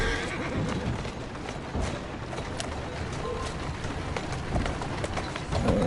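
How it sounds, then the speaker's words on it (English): A horse in Assassin's Creed Syndicate whinnies over steady galloping hoofbeats and a constant rushing background, the clip-clop continuing throughout. "Who's a good horse? You are."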